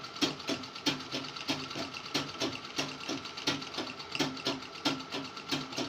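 A sewing machine stitches a baby frock with a steady, rapid mechanical rhythm of evenly spaced clicks and thumps, close and clear, running without pause and with no voices.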